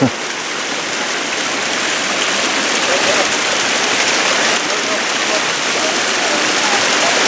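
Water flows in a stream beside rocks in a graveyard setting, giving a steady, broadband rushing wash that stays constant throughout, close and fairly loud.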